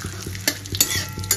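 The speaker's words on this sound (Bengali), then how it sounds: "গরম হলেই সবার আগে ফোড়নগুলো দিয়ে দেবো।" Whole spices crackle and sizzle in hot oil while a spoon stirs them in a pan for arhar dal, a close, steady fry with sharp scraping and clinking strokes recurring every fraction of a second.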